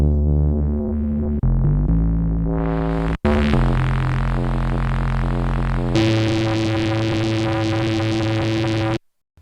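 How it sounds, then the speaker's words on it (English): Arturia MiniFreak synthesizer bass oscillator with added noise, playing a loud, sustained buzzing bass tone that shifts pitch in steps, with a hissy noise layer that swells brighter partway through before cutting off abruptly. "you can definitely hear how that noise is affecting the timbre"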